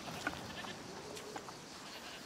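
Goats bleat in A Plague Tale: Requiem, a few brief, faint calls spaced apart over quiet ambient background.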